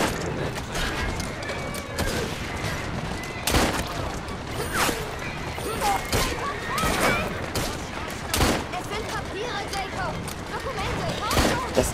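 Gunfire in Assassin's Creed Syndicate, rapid bursts of shots cracking out repeatedly over about twelve seconds at an even, moderately loud level, with mechanical game effects mixed in.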